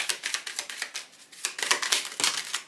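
Lenormand fortune-telling cards are shuffled by hand in a rapid run of crisp, papery riffles and flicks, close and steady with brief pauses between bursts.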